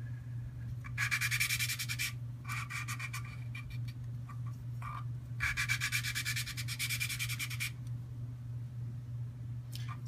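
A valve is lapped by hand into a Toyota 7AFE cylinder head, making bursts of gritty back-and-forth scrubbing that start and stop irregularly over a steady low hum.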